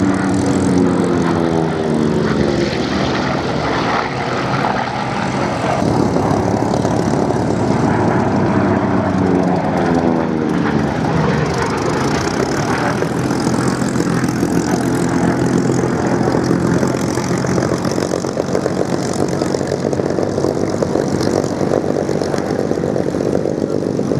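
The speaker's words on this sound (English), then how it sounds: "A trio of high-speed round engines." Vintage warplanes with radial piston engines fly past at the Duxford Flying Legends airshow, a loud continuous propeller drone that swells and shifts in pitch as the aircraft pass overhead.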